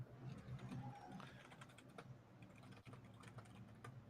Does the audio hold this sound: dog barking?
no